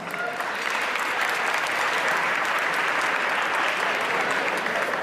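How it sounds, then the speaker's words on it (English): An audience at an annual school dinner breaks into dense, sustained applause, loud and even from start to finish with a few cheers mixed in. "All right, give yourselves a round of applause."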